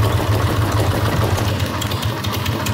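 A motorcycle engine runs steadily at idle, a close, continuous low rumbling throb with no talking over it.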